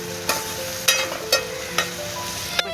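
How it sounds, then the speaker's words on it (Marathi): Finely chopped onion with bay leaf stirred and frying in hot oil in a pan, steady sizzle broken by four or five sharp scraping stirs at a slow, even rhythm, close and moderately loud. "असा बारीक कापलेला कांदा टाकलाय, हलवून घ्यायचा आहे आपला सगळा कांदा"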